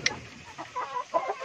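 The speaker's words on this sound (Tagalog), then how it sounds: "ang aking kapatid ay nagpapakain na sa aking mga alagang manok" Backyard chickens kept in a cramped coop in Leyte cluck and murmur in short, close bursts while being fed, a busy, low chatter of several birds.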